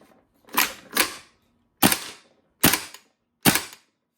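A Tokyo Marui Saiga 12k airsoft gun fires in semi-auto: five sharp, close pops, irregularly spaced over about four seconds with silence between, and no talking.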